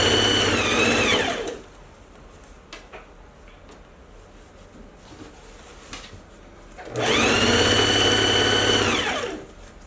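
Sewing machine stitching a lined coat, with two loud bursts of fast motor whir that spin up and wind down, separated by a few seconds of quiet with light handling clicks.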